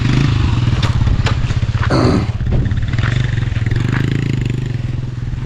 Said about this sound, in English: motorbike is the best means of transport because at least it can maneuver different areas